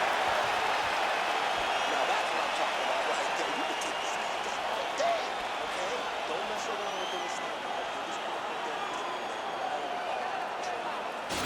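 Video-game crowd in a simulated UFC 4 bout applauding and cheering after a round, a steady broad wash of clapping and crowd noise running throughout at moderate level.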